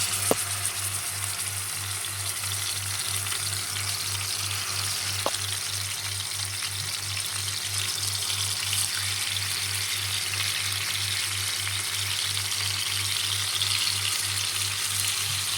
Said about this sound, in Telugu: ఆయిల్ అయితే కొద్దిగా వేడెక్కింది ఒక్కొక్కటి వేసుకొని ఫ్రై చేసుకుందాం